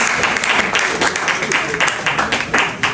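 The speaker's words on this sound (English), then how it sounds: "Round of applause," Audience applause at a private album listening session, a dense, steady round of clapping from a crowded room that fills the whole stretch at close range, with a voice faintly mixed in.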